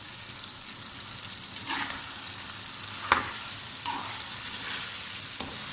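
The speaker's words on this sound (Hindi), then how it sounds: "ये भिंडी जो हमने फ्राई की थी ये भी हम इसमें डालेंगे। इसको अच्छी तरह मिक्स कर लेंगे।" Fried okra being stirred into chicken in a pan, with a soft continuous sizzle and a few scraping stirs of a spoon at intervals, close and moderately quiet.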